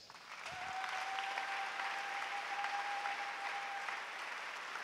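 A church congregation applauding in a steady, dense wash of clapping for the whole stretch, with a sustained tone ringing through it.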